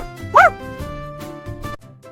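A pet dog gives one short, high bark near the start, followed by softer low yips and huffs at close range.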